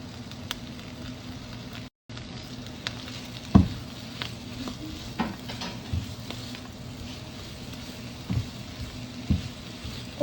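Spinach sautéing in olive oil and butter in a pan, a steady soft sizzle with occasional stirring clatters and a brief dropout, close and moderately loud with no voices.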